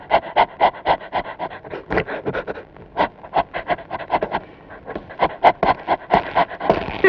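A performer imitates a dog with quick, rhythmic panting bursts, steady and close for about seven seconds, during a Tamil folk music act.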